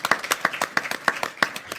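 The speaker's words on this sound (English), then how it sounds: "So round of applause to all of you, first and foremost." Scattered, individually distinct hand claps from a small audience at a law school evidence competition, crisp and close with an uneven, irregular rhythm.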